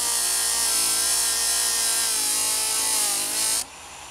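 Felt wheel spinning at full speed while dressed with 60 grit micro finishing film, giving a loud, steady, high abrasive whine and rasp that runs continuously, then drops away abruptly near the end.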